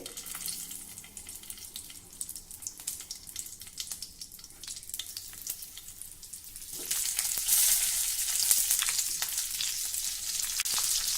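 Green chillies sizzle as they roast in oil with salt over a very low gas flame, a steady close crackle with bursts of spitting that grows louder and denser partway through.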